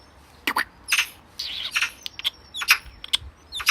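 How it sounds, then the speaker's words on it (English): Short, sharp bird calls and squawks repeat irregularly nearby against a quiet background. "Bird!"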